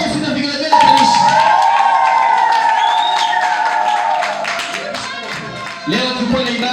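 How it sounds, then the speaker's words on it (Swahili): A church congregation bursts into loud, dense clapping and shrill ululation that carries steadily for several seconds, with a sustained high trilling cry riding over the crowd before the noise briefly dips and swells again. "Pigeni makofi na vigelegele kanisa."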